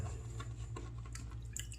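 A few drops of water added to a bowl of Noble Otter Logbook shaving soap, soft irregular drips and small wet clicks over a low background hum, quiet and close.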